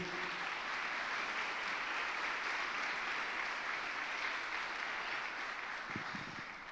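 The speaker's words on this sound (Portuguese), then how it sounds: "Você pode dar um aplauso ao Senhor?" Congregation at a Sunday morning communion service at Lagoinha Guarujá church applauding, a continuous even roar of many hands clapping that tapers slightly at the end.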